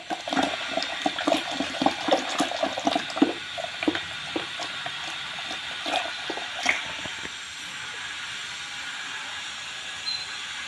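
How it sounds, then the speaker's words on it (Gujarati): Water is poured into churned cream with butter in a steady splashing stream that gurgles and trickles, then settles into a softer, quieter run. "તો હવે થોડું પાણી નાખી દેશું"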